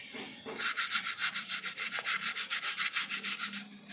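A drain part from an Onida washing machine is cleaned by hand, with about twenty quick, even rubbing strokes scraping back and forth close up after a short pause at the start.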